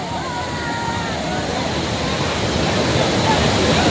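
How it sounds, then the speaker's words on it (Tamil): A small waterfall pours steadily into a lake where crowds of people are bathing, giving a continuous close rush of splashing water with a faint murmur of voices mixed in. "இது ஒரு சின்ன அருவி மாதிரியே இருக்குது"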